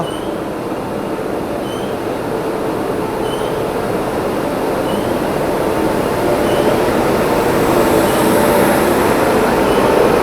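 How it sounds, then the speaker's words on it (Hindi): The 12427 Rewa–Anand Vihar Terminal express, with a WAP-7 locomotive and running hours late, rolls into platform 2 at Prayagraj Junction. It makes a loud, steady rumble of wheels and coaches with faint squeals above it. "प्लेटफॉर्म नंबर 2 पर प्रयागराज जंक्शन के 5:40 पे जाकर के ट्रेन अपनी लग रही है भाई"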